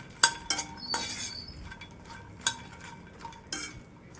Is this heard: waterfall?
no